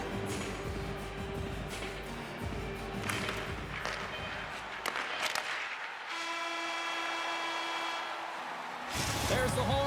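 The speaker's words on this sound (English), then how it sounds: "There's the horn." An end-of-period horn in the NHL 25 hockey video game blares as a steady, sustained tone for about three seconds over arena crowd noise, with a commentator's voice around it.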